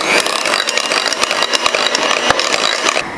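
An electric mixer whirs loudly and close through a rich British plum cake batter, a continuous buzzing drone broken by rattling clicks against the bowl.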